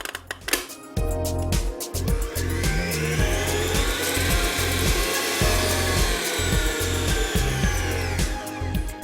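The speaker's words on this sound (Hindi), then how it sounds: "First we're going to whip it up." An electric mixer whips butter for cricket-bat cake icing with a loud, steady motor drone. The beaters knock and scrape rhythmically against the bowl, alone and without speech.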